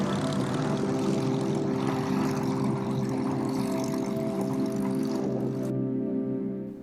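A Spitfire LF Mark V with clipped wings, a propeller fighter, drones loudly and steadily with a throbbing piston-engine roar that fades slightly at the end.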